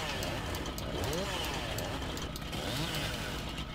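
Husqvarna chainsaw in the farming game Landwirtschafts-Simulator 19, running with a continuous buzzing engine drone that rises and falls slightly, struggling as if it has trouble starting.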